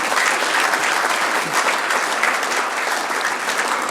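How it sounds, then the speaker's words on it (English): An audience at an awards ceremony claps continuously for a championship-winning team, a thick, even wash of many hands that holds steady throughout. "they deserve a big round of applause for winning the championship"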